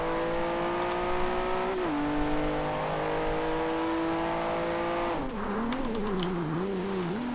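A 2015 Volvo S60 Polestar's engine in Forza Horizon 2 drones steadily, holding its pitch, then shifts and climbs with wavering revs as it accelerates hard. It stays loud and continuous throughout, with no talking.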